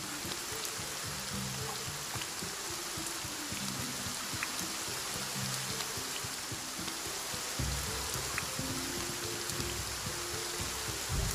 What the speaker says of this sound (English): make it rain everywhere.